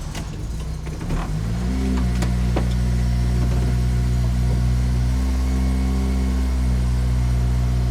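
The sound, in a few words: Honda Civic Si engine starting and idling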